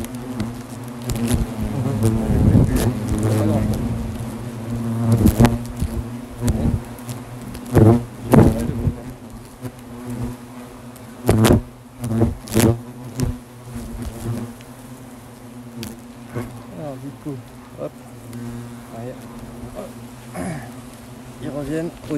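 Asian hornets swarm around a large ground-level nest, and their dense buzzing rises and falls up close while individual insects zip past the microphone in loud bursts.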